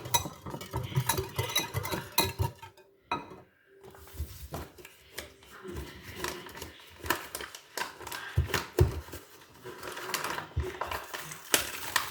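A spoon stirring pancake batter in a bowl, a run of quick scraping clicks and soft clinks against the sides, close by and mostly without talk, with a brief pause midway.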